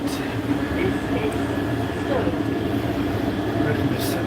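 A passenger train on the line to Alba rumbles and hums steadily throughout, heard from inside the carriage, with faint voices and station-like background noise mixed in.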